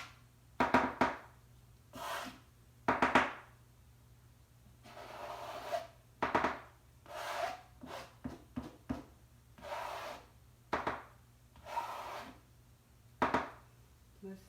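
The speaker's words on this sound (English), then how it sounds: "That's why I'm scraping it again." A hand scraper drags across a painted canvas surface to lift paint in short, separate rasping strokes, quiet and close, with pauses between passes and no talking.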